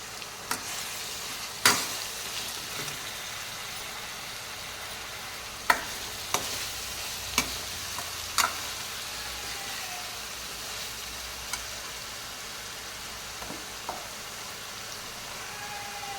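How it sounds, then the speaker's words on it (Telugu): Chopped onion, garlic and brinjal fry steadily in a pan for a crab curry, a soft continuous sizzle broken by sharp occasional scrapes and taps of a spoon stirring, with no talking. "పచ్చి వాసన పోయేదాకా ఫ్రై చేయాలండి."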